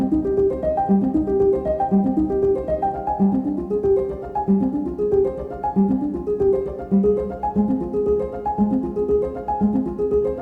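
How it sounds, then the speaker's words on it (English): Native Instruments Noire piano notes play through an arpeggiator, repeating a steady rising pattern of tones in a quick, even rhythm, clear and alone. "let's start off with the piano. This is the Native Instruments Noire. So I've added an arpeggiator in front of it."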